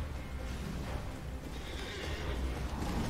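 A horse neighs in the video game Elden Ring, a whinny set inside dense, continuous game noise and rumbling, loud and without any talk.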